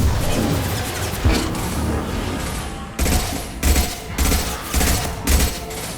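A firefight rages in the video game Mass Effect 2, with bursts of rapid automatic gunfire and heavier thudding shots arriving in clustered volleys, loud and close, with short gaps between them.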